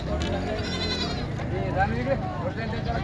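Goats bleat repeatedly in a busy, crowded goat market, with a constant din of voices and people talking nearby over the animals.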